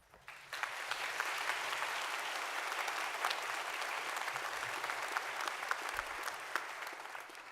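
Sustained applause from a large audience at a university graduation ceremony, starting abruptly and continuing as an even, dense clapping across the whole stretch.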